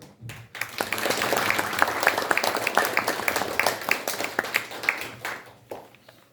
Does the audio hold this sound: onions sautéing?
no